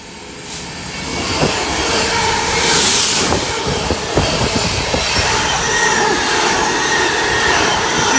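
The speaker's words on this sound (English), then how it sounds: "Got a class 66 track cleaner with some ballast trucks on the back as well." A class 66 track cleaner hauling ballast trucks rolls past loudly and close, a steady heavy rumble with clicking wheels over rail joints and a brief hiss throughout.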